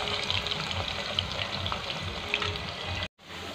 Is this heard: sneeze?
no